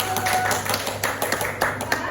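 A classroom group claps together after a group presentation on animals. The taps are quick and irregular and run steadily for a couple of seconds.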